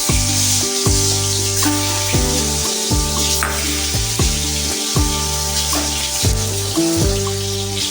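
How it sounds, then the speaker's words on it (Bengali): Eggs coated in salt and turmeric fry in hot mustard oil in a pan, giving a constant close crackling sizzle under rhythmic background music. "আমি এখানে নুন হলুদ দিয়ে মাখিয়ে রাখা ডিমগুলো দিয়ে দেব।"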